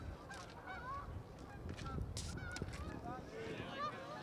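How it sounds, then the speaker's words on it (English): A flock of geese honks repeatedly overhead at a baseball game, the calls moderately faint against an open outdoor ambience with light background activity. "Here they come again. Yep. The geese."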